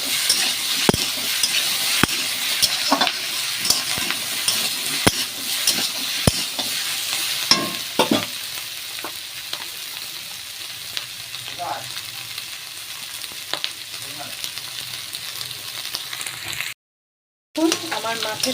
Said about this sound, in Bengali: এবার আমি ততক্ষণ অবধি ভাজবো যতক্ষণ না এটা থেকে পুরো ভাজা ভাজা হয়ে তেল ছেড়ে দেবো।